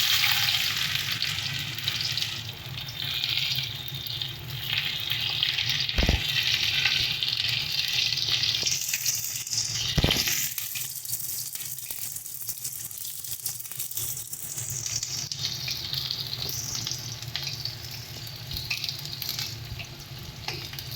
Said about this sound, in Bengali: এবার এর মধ্যে আমরা পেঁয়াজ ফোড়ন দিয়ে দেবো।